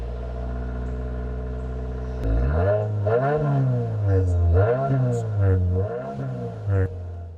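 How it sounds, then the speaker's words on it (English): Deep, steady rumble from a 2025 Subaru WRX tS boxer engine on a cold start in a garage, idling evenly and then swelling into a louder, wavering revving note with rising and falling pitch, close by and with no talking. "you can still hear that boxer compression when you're in the garage on a cold startup"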